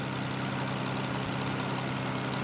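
Aston Martin DBS Superleggera Volante, 2020, with a hand-built 5.2-liter twin-turbo V12 idling, a steady deep rumble with low droning tones, close and constant, with no speech.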